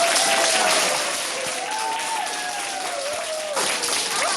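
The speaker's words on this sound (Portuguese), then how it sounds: "Logo depois de receber alta, um paciente é aplaudido por médicos e enfermeiros ao deixar o hospital" Doctors and nurses applaud a recovered Covid-19 patient leaving the hospital, steady group clapping with a voice or tone sliding over it, mostly even and moderately loud.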